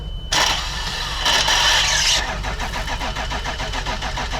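A diesel car engine cranks loudly and catches, then settles into a rough, rhythmic chugging idle close by.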